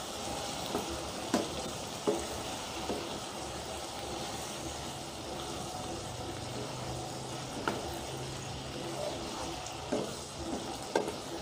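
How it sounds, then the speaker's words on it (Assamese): Fish curry being stirred with salt in a pan, a quiet continuous sizzle with occasional soft scrapes and knocks of the spoon against the pan. "এতিয়া ধুনীয়াকৈ লৰাই দিম মই।"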